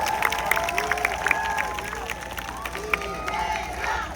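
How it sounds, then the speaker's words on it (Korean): Crowd cheering and clapping at a Jeju campaign rally for a presidential candidate, a steady mid-loud outdoor roar with shouted voices and scattered sharp claps throughout. "큰 박수 부탁드립니다."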